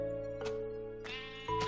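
A sheep in Minecraft on Xbox 360 bleats three times in quick succession, close and clear over a steady tonal game background.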